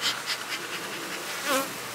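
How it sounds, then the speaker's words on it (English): Honey bees hum steadily in an open hive during a split inspection, a close, continuous buzz with a slight swell near the end. "Bees are looking good up top."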